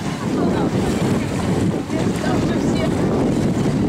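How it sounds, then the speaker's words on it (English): Ocean waves roll in at Crescent Beach in a continuous loud wash of surf, with heavy wind buffeting the microphone throughout. "We're gonna see if she likes to play with the ocean."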